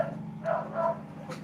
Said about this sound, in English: When he's growling, that means the dog's back.